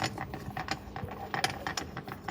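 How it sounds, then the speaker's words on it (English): A hand ratchet tightening the bolts on vehicle prop shafts, heard as a quick, even series of close, crisp clicking strokes with no speech. "So just tightening prop shafts."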